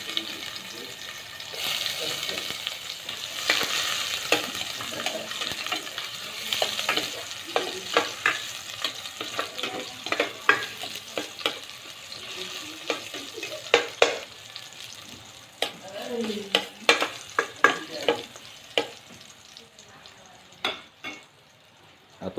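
Garlic sautéing in a pan for a Visayan chicken soup: a steady sizzle runs throughout, broken by sharp clicks and scrapes of stirring that grow sparser toward the end, with a faint voice in the background.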